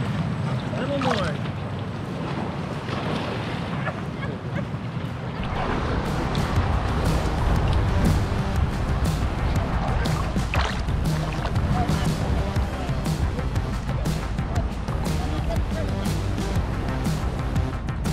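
A motorized JetSurf board runs on the water off Destin, Florida, its engine a continuous rushing roar mixed with heavy wind buffeting on the microphone, loud and close throughout.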